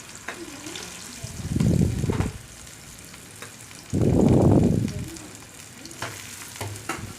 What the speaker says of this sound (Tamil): நல்லா இதை வதக்கிக்கலாம்.